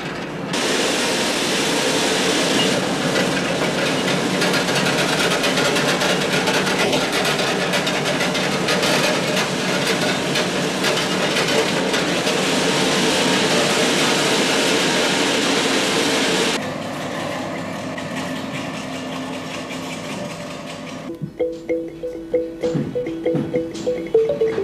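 A Hank dyeing machine in a Donegal carpet factory runs with a loud, steady mechanical rumble and whir for most of the stretch, then it changes and quiets into intermittent clanks and knocks.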